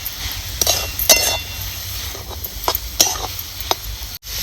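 Cluster beans with masala are stir-fried in a pan: a close, constant sizzle runs throughout while a spatula scrapes and clinks against the pan in irregular strokes, with no talk.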